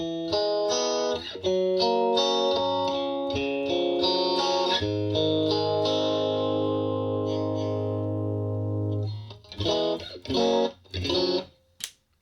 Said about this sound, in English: so the guitar part will normally sound like this.